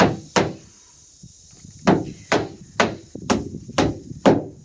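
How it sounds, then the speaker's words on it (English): Sharp, loud hammer strikes on wood during a shed build, a lone blow followed by a steady run of six evenly spaced whacks close by, each ringing briefly, no talking. "well, Gladys, I can't see nothing but him hammering"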